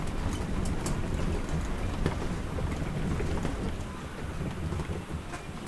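Heavy rain from Hurricane Beryl pours steadily onto surfaces around a driveway, a dense continuous hiss with occasional sharper drops and gusts, loud and close throughout with no talking.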